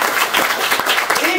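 Practice round of applause from a comedy club audience at a science-themed stand-up night in Newcastle, dense steady clapping with a few voices mixed in, fairly loud and continuous.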